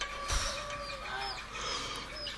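Chickens clucking on a farm in the early morning. The clucks are faint and scattered, with no talk.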